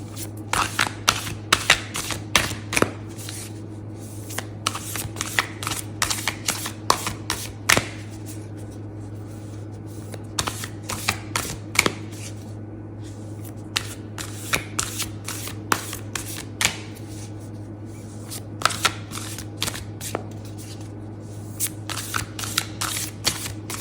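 Tarot cards from a big, thick deck riffling and snapping in rapid bursts throughout, close by, over a steady low hum, with no talking.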